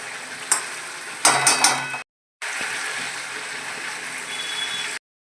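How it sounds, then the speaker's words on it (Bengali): Fish in spice masala frying and being stirred in a pan, a close sizzle with scraping spatula strokes in short bursts, a brief gap, then continuous frying sizzle. "এই মশলাটাকে ভালো করে কষে নেব"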